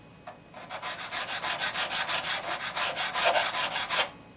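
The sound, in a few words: sanding the frets of a Squier Stratocaster guitar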